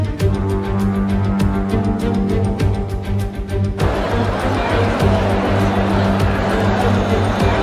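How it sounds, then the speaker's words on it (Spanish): Engine of a McLaren MP4-4 Formula 1 car in the F1 2020 video game at the Red Bull Ring, a loud steady high-revving drone with shifting harmonic tones and a sudden change in character partway through, with no talk over it. "Me encanta el sonido de los motores en la mañana."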